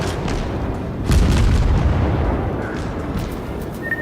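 Naval cannons boom in the World of Warships game, a deep rolling blast swelling at about one second and rumbling out over the next few seconds, loud and close.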